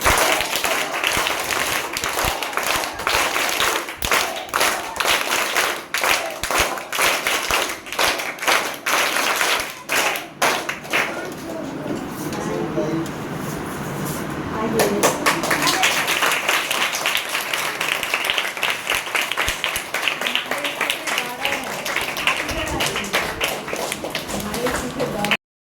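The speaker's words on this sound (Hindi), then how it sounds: "आपका हम लोग 3 तालियों से स्वागत करेंगे" Audience at a national teachers' award event giving a welcome applause, a sustained burst of many hands clapping with dense rhythmic claps, briefly thinning mid-way before swelling again, with voices mixed in.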